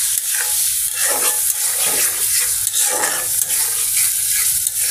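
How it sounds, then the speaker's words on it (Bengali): Small local desi shrimp sizzling steadily in a pan during a curry with taro stolons, with broad hissing crackle and occasional stirring scrapes, close and continuous throughout. "মাছটা এখন কিছুক্ষণ কষিয়ে তারপরে লতিগুলো দিয়ে দেব।"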